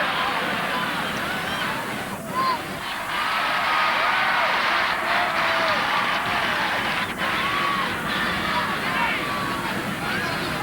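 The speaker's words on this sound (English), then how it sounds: "A great cheer went up around Fitzgerald Stadium as Jacko went back into the fray" A large crowd roars and cheers at Fitzgerald Stadium during the 1991 Munster Gaelic football final between Kerry and Limerick, a loud, sustained wash of noise with a commentator talking over it.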